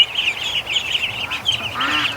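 Young ducklings from hatched duck and goose eggs chirp and peep continuously in high, thin calls, close and fairly loud, with no talking.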